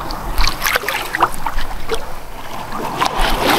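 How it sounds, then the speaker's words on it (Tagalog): Growing sea waves slap and splash around a small fishing boat, with uneven bursts of water close by and gusty wind buffeting the microphone. "Lumalaki yung alon, mga master."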